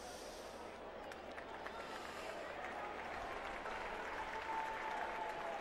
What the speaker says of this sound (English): And applause ringing all round the ground for that run.